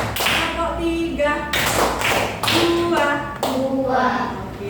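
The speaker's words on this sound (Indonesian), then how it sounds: "Tepuk 1. Tepuk 2. Tepuk 3." Classroom students clapping in counted groups of one, two and three during a lesson, short bursts of claps alternating with a teacher's voice calling the count.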